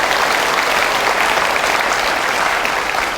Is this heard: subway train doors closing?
no